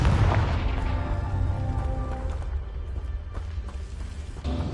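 The Confringo fire spell explodes in Hogwarts Legacy on PS5: a loud, deep booming blast that opens the clip and rumbles on, with a couple of fainter follow-up bursts and crackles.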